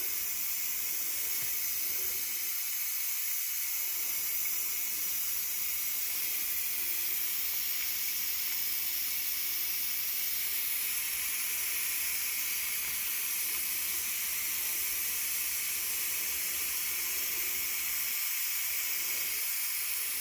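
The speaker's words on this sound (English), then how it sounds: "I'm now releasing the pressure from the Instant Pot" Steam blasting from an Instant Pot pressure release valve while cooking homemade beef stew, a loud continuous hiss that holds steady throughout, with only brief dips in the background.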